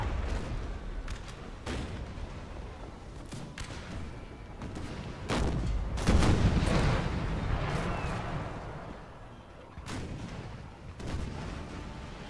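Naval cannon fire in a Napoleon Total War battle in the Bay of Biscay, heavy booming shots one after another at irregular intervals, with a rumbling swell of close broadsides midway.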